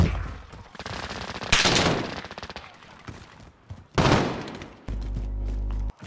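Rapid automatic gunfire in Call of Duty: Modern Warfare from a silenced M4A1 with reflex sight, loud bursts in rhythmic volleys with short gaps between them, and little talk over the shooting.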